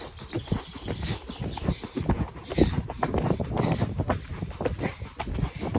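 Horses out hacking canter up a field beside a hedge, their hooves clip-clopping in a quick, steady rhythm at moderate distance, with light wind noise and no talk.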